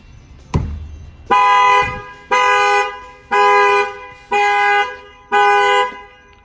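A 2018 Chevy Camaro's factory alarm sounds after a sharp knock at the rims: five loud, evenly spaced horn blasts, each about a second long, close by.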